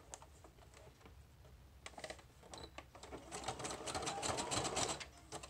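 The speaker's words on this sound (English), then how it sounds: "we're going to go ahead and stitch right along the top again" A sewing machine stitches along the top edge of packing-paper journal pages, a quiet run of quick needle clatters in short bursts that settle into a steadier, slightly louder stretch of rapid stitching, with no talking.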